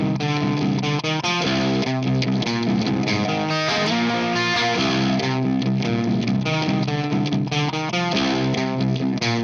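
An electric guitar played through a Marshall Origin 50 amp at a slightly gritty clean setting, with strummed chords and riffs ringing out loud and close, a light breakup on the attacks and no talking over it.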